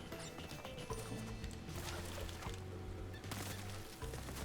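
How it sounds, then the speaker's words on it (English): Rushing water from a waterfall in Crash Bandicoot 4 pours steadily beneath a layer of game music with tonal notes, moderately loud and continuous, without any talking. "we go behind the waterfall here for some additional boxes"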